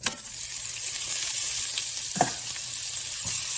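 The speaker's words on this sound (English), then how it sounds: "here you're gonna take your ribeye, put it straight on the pan" A ribeye steak sizzles in a hot pan for cheesesteak, a bright steady hiss up close with a few faint clinks and scrapes and no voices.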